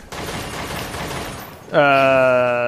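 Grenade blasts from Lady's bailout move in Devil May Cry 4: a dense, loud burst of explosive crackle fills the first part, then a sustained bright ringing tone takes over at full volume.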